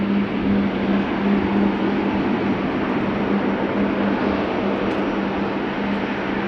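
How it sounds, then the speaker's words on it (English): A Swiss Airbus A220-100 at rainy Amsterdam Schiphol Airport gives a loud, steady engine roar with a constant low hum running beneath it and no talking. "A220-100 by Swiss."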